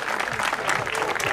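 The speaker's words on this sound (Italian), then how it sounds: "Un applauso." Spectators at a downhill cart race in Sersale applaud in a thick, continuous burst of clapping, loud and close, with faint cheering mixed in.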